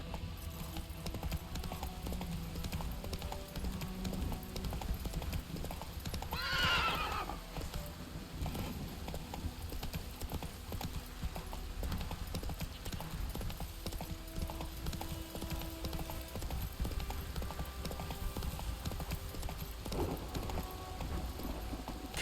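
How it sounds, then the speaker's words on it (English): A horse in The Witcher 3 neighs once, loud and shrill, over a continuous faint clip-clop of hooves and ambient game sound; no one speaks. "Run, Roach."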